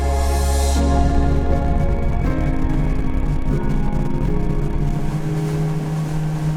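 A steady motorboat engine on Lake Atitlan, Guatemala, drones loudly and continuously, a low rumbling hum with slight pitch shifts as it cruises along.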